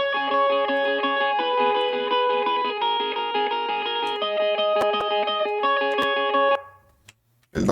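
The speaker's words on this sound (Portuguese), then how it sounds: "E eu usei aqui um reverb, delay, sei lá. É um reverbzinho." A distorted electric guitar plays sustained chords with a faint roomy tail, the notes ringing smoothly before stopping abruptly near the end.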